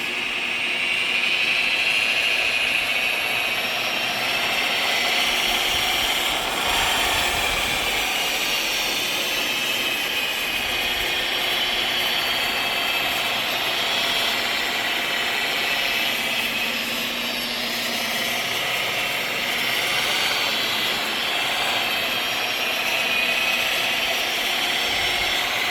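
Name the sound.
Alloyman rotary buffer polisher running with wool pad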